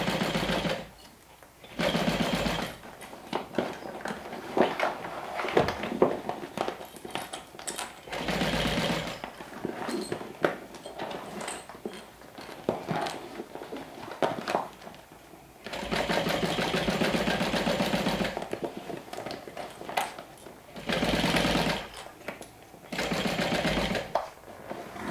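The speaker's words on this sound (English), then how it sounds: "So I'm sewing close to the edge, but not too close that I miss catching this binding." Sewing machine stitching binding along the edge of a clear vinyl beach bag, running in several sustained bursts separated by short pauses, close and fairly quiet.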